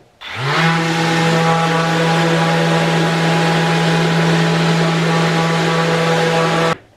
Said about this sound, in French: Voilà, sablage, ponçage.